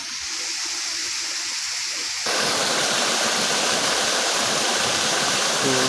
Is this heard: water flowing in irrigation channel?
yes